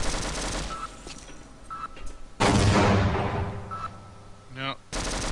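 A grenade explodes in the video game Sven Co-op, a sudden loud, broad blast that follows scattered game noises and then decays into rumble and further bursts.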